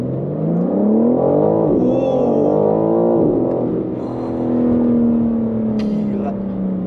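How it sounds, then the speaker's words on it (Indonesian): A BMW M4 Competition engine revs up hard with rising pitch, shifts and climbs again, then settles into a strong, loud drone close by. "Kencang banget ini mobil."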